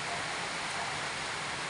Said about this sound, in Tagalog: Puro ulan ngayon dito sa Metro Manila.